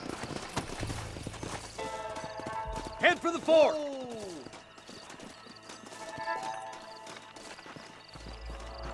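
Horses in Red Dead Redemption clip-clop and one neighs loudly mid-way, hooves thudding close by while someone speaks briefly over the scene.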